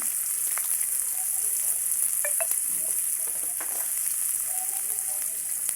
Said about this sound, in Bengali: সর্ষের তেল দিয়ে এখন ভাজবো খুব তেলটা গরম হয়ে যাওয়ার পরে আমি গাজরগুলো কড়াইতে দিয়ে দিলাম